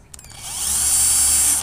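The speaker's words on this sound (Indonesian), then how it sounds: "Selanjutnya kita akan melubangi dengan bor pada dua sisi dari" A high-pitched electric drill whirs steadily for over a second after a few short clicks, close and loud, boring through a black plastic box.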